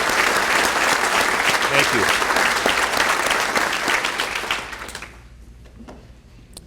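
Loud applause from the audience at a police department awards ceremony honoring officers and employees, filling most of the moment before tapering off, as a voice briefly speaks near the end.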